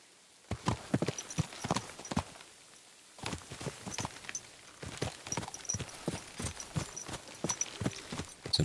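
Horse hooves clip-clop at a steady walking pace in the medieval game Kingdom Come Deliverance 2, crisp and fairly close, with a brief pause before the steps resume, no talking over them.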